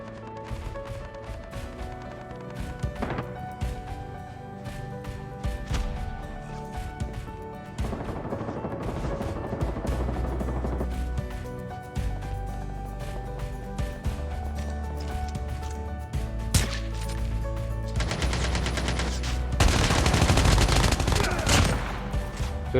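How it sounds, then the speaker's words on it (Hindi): Bursts of automatic and single-shot gunfire in the mobile shooter Call of Duty Mobile, crackling continuously over game ambience, growing louder and denser toward the end. "मुझे सामने से गन फायर के साउंड आते हैं"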